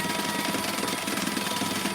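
A sewing machine stitches through two non-interfaced fabric layers of a crossbody bag, its motor running in a steady, close whir for the whole stretch.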